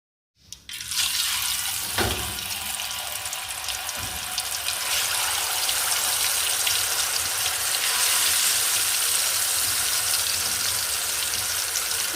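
Steady, dense sizzling of tofu frying in hot oil, continuous and fairly loud throughout with no voices.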